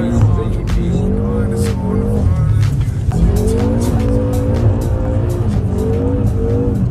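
A car drifts sideways on a snowy street, its engine revving loudly and steadily with rising and falling pitch while the tires squeal and skid throughout, close and continuous.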